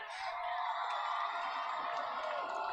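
A high school football crowd cheers and whoops at a steady, moderately distant level, a broad wash of voices filling the stands for the whole stretch.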